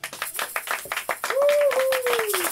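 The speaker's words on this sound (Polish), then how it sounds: "Kiepskie te brawa, jeszcze raz." A small group clapping for a birthday celebration, scattered uneven handclaps close by, joined partway through by a long sustained whistle or sung tone.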